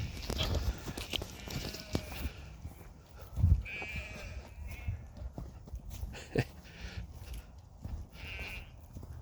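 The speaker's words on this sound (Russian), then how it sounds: "нашли мы тут стадо баран." A flock of sheep in a Warsaw-area forest, with scattered bleats and shuffling movement mixed with outdoor rustle and footsteps, fairly close and intermittent.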